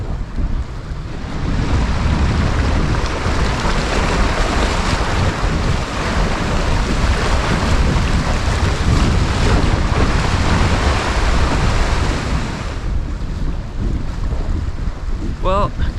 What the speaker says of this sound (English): The wind is increasing in strength and fast